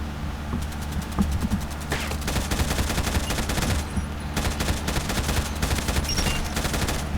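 Rapid gunfire crackles nonstop in a shooting video game, with dense overlapping bursts and volleys of shots, loud and close over a steady low background rumble.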